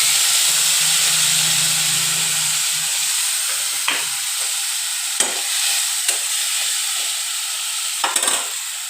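Spice masala with potatoes sizzles in hot oil in a pan, a steady loud hiss with a few sharp pops and clinks scattered through, close up and with no talking.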